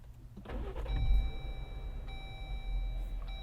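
A 2022 Jeep Wrangler Unlimited Willys starts by push button, a short cranking burst that settles into a low idle rumble, accompanied by steady electronic dash tones, close inside the cabin.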